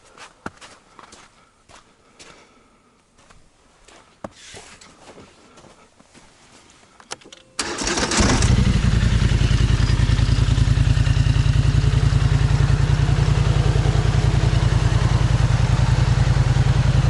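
A Polaris Sportsman XP 1000 ATV fitted with Maxxis Bighorn tires and a plow: a few quiet clicks and footsteps, then the engine suddenly starts and settles into a loud, steady, rumbling idle close by, with no talking.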